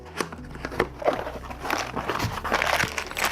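Plastic packaging bags rustle and crinkle up close as a mini angle grinder kit for tile cutting is unpacked, with irregular handling crackles and soft bumps against a low background hum.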